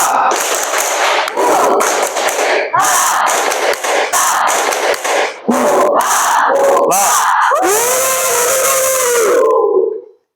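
Classroom students, standing for an icebreaker, perform the tepuk rimba clapping chant: loud group shouts and claps in choppy rhythmic bursts, ending in one long drawn-out shout that cuts to silence.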